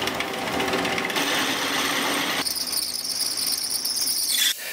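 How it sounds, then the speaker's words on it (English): A power drill bores a half-inch hole through a metal block at high speed, a steady whining, grinding drone that shifts pitch midway and cuts off abruptly near the end, loud and close with no voices. "I had to drill this much faster than I would like to, just so the drill bit could get grip on the hole for drilling."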